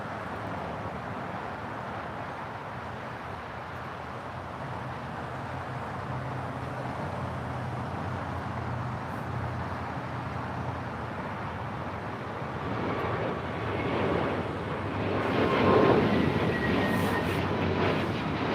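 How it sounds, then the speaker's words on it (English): A JetBlue Airways Airbus A321neo takes off from the south side at LAX, its broad, steady jet roar filling the air and building louder toward the end as the aircraft climbs away. "Next takeoff here on the south side is JetBlue Airways Flight 624 heading to JFK,"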